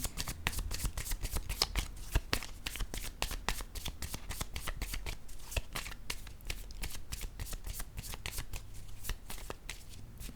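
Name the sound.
drawing and placing playing cards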